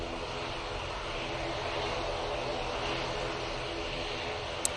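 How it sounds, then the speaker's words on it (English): An Easyjet airliner takes off from Manchester Airport bound for Lisbon, a steady, fairly distant broadband jet roar that holds an even level throughout with one short click near the end. "Goes the Easyjet off to Lisbon."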